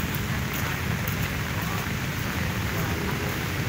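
Steady rain falls along Manila Bay as a continuous, even wash of broadband hiss with a dense low rumble beneath, constant from start to finish with no pauses.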